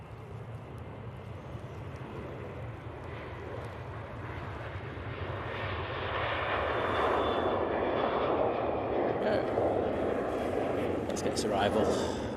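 A KLM Boeing 737 on final approach to Manchester Airport sends a steady broadband engine roar that slowly swells as it nears, with a voice talking over the noise.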